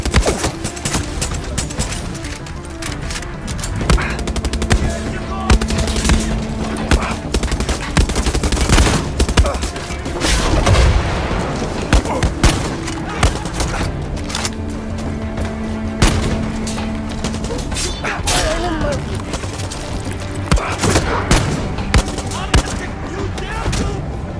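Dense, continuous gunfire from the Far Cry 6 Vaas DLC, with bursts of automatic fire, explosions and thumps layered over game music and effects, loud and sustained throughout, with some talk mixed in.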